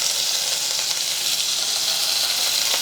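Garlic and curry leaves frying in hot oil for a tempering, giving a steady, bright sizzle and hiss that runs unbroken and close up with no talking.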